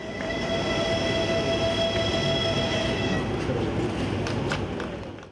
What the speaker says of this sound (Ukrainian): Потяг 21-15 по непарній колії запустити.